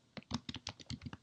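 Quiet, rapid taps on a computer keyboard, roughly a dozen light key clicks in quick irregular succession, close and faint with no voices.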